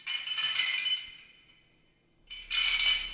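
A metal chain clinks and rattles in a dungeon escape setting: two bright bursts of jingling separated by a short silence, close and fairly loud with no voices.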